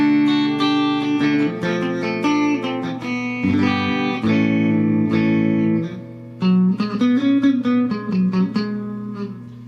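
Electric guitar played through a Fender Tone Master Twin Reverb amp with a light splash of reverb, loud chords and single notes ringing alone with short pauses between phrases.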